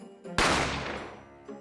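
A single sharp gunshot bang from the courtroom mystery game The Great Ace Attorney Chronicles, heard close and loud, with a long noisy decaying tail over faint background music.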